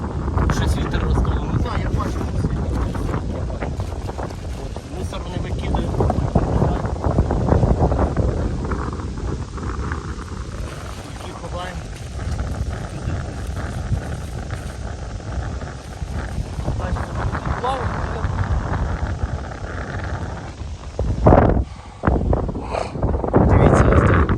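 Strong wind by the water buffets the microphone with a constant roaring rumble, loud and gusty throughout, with someone talking over it and faint tonal hums coming and going.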